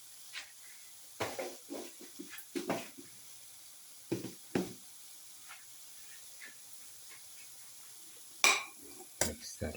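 Spoon scraping and clinking in a pot while a black pepper papaya yogurt stew with turmeric is mixed, giving scattered knocks and a few louder clanks over quiet steam hiss.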